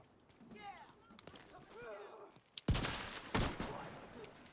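Gunfire from JTF forces in the video game Division 2: a sharp burst of shots lands after a stretch of voices, then a second loud volley follows close behind.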